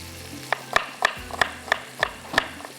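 Chopped onions with garlic frying in a pan for a creamy basil chicken dish, with a string of sharp, regular stirring scrapes over a low, steady sizzle.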